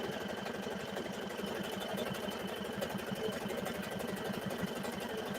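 A sewing machine stitching a buttonhole automatically, a fast, steady mechanical whir with rapid rhythmic needle ticking that runs evenly and close throughout at low volume.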